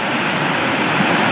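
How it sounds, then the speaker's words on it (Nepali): Rushing water of a small stream being crossed on foot, a constant broadband hiss and gurgle, loud and close with no gaps. "हामी चाहिँ खोला तरेर जाँदैछौँ"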